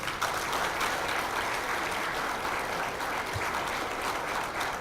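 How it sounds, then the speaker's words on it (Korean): A crowd at an outdoor political campaign rally in Gumi, North Gyeongsang, claps for a candidate, a dense, sustained applause that stays loud and even for the whole stretch. "큰 박수를 보내주십시오"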